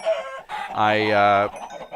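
Chickens clucking in a video game server: loud, close squawking bursts, with one long drawn-out harmonic cluck in the middle, heard with no talking.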